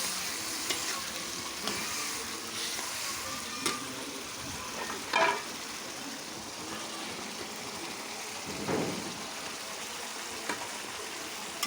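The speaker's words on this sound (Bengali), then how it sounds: "বেগুনগুলো আমি সব দিয়ে দিচ্ছি।" Eggplant pieces frying with spices in a pan for a tilapia and eggplant curry, a continuous close sizzle with stirring scrapes and an occasional louder clatter, no voices.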